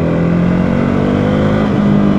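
A KTM Duke 390 single-cylinder motorcycle engine accelerates close by, a loud, steady, throbbing roar rising slightly in pitch over a couple of seconds.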